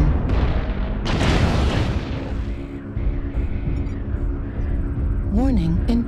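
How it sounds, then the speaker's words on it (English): Artillery strike explosions in a combat video game rumble as a continuous, loud, booming wash, with a heavy burst near the one-second mark and alarm-like tones at the end. "Artillery strike activated."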